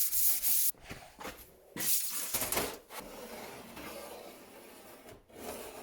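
Sheet metal on a 1958 convertible car body is sanded with a finer grit, giving close rasping strokes in uneven bursts separated by brief pauses.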